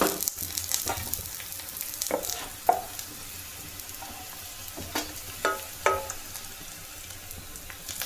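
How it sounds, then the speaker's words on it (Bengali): Whole spices crackle and pop in hot oil in a wok, a soft steady sizzle broken by scattered sharp spits and ladle clinks, fairly quiet and close. "উচ্ছে ভাজাটা তো প্রায় হয়ে গেছে, এবার এটাকে তুলে নিই, নিয়ে কড়াই ফোড়ন দেবো।"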